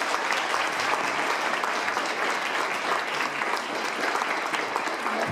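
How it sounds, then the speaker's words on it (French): Audience applause for three panelists after a debate on legalizing medical assistance in dying, a steady wash of dense clapping from a hall full of people, sustained and even throughout. "J'espère bien que vous avez profité de l'expertise de ces trois panélistes à qui je demande de donner un grand applaudissement."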